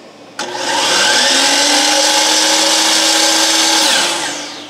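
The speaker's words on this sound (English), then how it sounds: "now I'm gonna hit the miter saw just by itself" A miter saw running alone on power from a TOPBULL 3000W 12V inverter spins up sharply, then holds a loud, steady whine for several seconds before winding down at the end.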